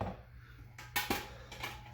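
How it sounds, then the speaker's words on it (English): A wooden spoon scraping and scooping refried beans out of a container, a few short knocks and scrapes, close and fairly quiet. "just a wooden spoon to start getting these refried greens out of the thing"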